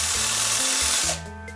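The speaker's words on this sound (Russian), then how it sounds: "Вот сейчас Арманчик будет, вот, Арман сейчас дрелью будет крутить" An electric drill spins the speedometer cable of a Passat B3, a loud steady whine with tonal hum that runs for about a second before dropping to a quieter motor tone.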